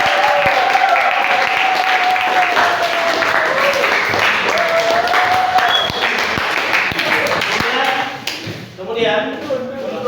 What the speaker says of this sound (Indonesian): Beri tepuk tangan dulu untuk teman kita yang sudah menjawab.